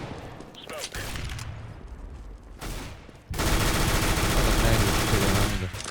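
Dense, loud gunfire in Counter-Strike: Global Offensive, rapid overlapping shots that build into a continuous heavy barrage near the end.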